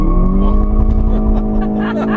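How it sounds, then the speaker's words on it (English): A 2015 Volkswagen Golf GTI Mark VII pulls away on a launch-control start with wheel spin, its engine droning loud and close at steady high revs with a faint squeal, while a voice speaks briefly. "That's a lot of wheel spin."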